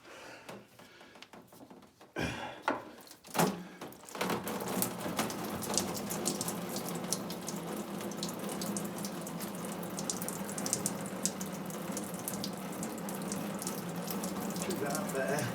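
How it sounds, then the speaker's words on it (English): Cold water gushes steadily from a tap in a woodworking workshop, a loud continuous rush that starts after a few sputtering bursts and runs on alone. "Here comes the water."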